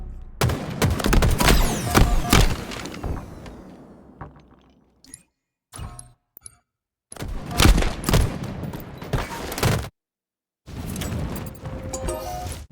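Gunfire in Halo Infinite during a Live Fire Stronghold match, loud sustained automatic bursts that break off, return in shorter clusters and fall to silence between volleys, with no voices.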